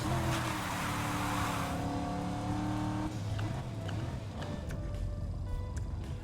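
Car drifting sideways in Need for Speed: Heat, a loud engine whine and sustained tire squeal that fades into lighter driving sounds and game effects.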